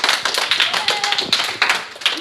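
A group applauds young players named on a bench in a sports locker room, with quick, fairly loud bursts of clapping and a few voices mixed in.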